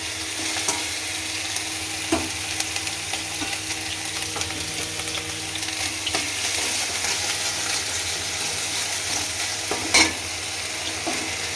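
Chilli and cumin paste fry with onion-garlic paste in a pan for fish curry, a continuous close sizzle with intermittent clicks and scrapes of stirring, no voices.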